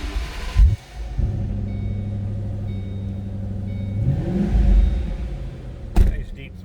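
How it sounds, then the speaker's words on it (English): A 2007 Ford Mustang Shelby GT500 engine catches and settles into a steady, throaty idle close by, then swells in a single rev before dropping back, with a sharp knock near the end. "Throaty exhaust note."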